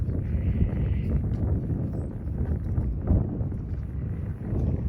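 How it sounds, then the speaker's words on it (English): Steady low rumbling wind buffeting the microphone outdoors, continuous throughout with no voices. "A windy morning."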